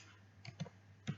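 A few soft, close keystrokes on a computer keyboard sound at uneven intervals over a low steady room hum.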